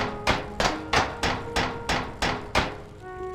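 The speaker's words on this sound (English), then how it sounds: "A wooden ladder with a metal sound." A video game character climbing a wooden ladder in a 2007 FPS Creator game gives a steady run of eight sharp metallic clanks, evenly spaced and ringing briefly, with no voices over them.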